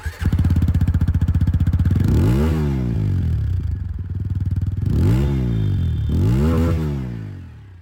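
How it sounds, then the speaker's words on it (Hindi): A 2023 TVS Apache 200 4V E20 motorcycle engine idles close by with a rapid, throaty throb through twin exhausts, punctuated by a few quick throttle blips that rise and fall in pitch. "अब मैं आप लोगों को यहाँ पर जो अपाचे उसकी भी आवाज़ सुना दूँ"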